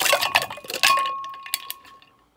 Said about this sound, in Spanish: Después estaré agregando los 5 cubitos de hielo.